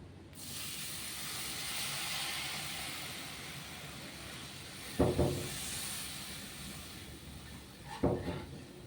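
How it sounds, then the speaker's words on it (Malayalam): Tamarind water poured into a hot pan of puli inji gives a steady hiss that fills the clip, broken by two dull knocks against the pan. "പുളിവെള്ളം ഒഴിച്ചു കൊടുക്കാം"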